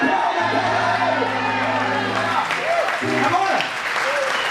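Portuguese-speaking church congregation applauding after a revival sermon, steady clapping with scattered cheers and shouts, sustained tones and voices mixed in, loud throughout.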